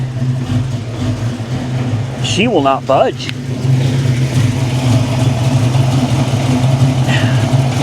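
A 1993 Ford Mustang GT stuck on a lift with its exhaust caught holds a steady, loud engine drone throughout, briefly broken by someone talking early on before the rumble carries on alone.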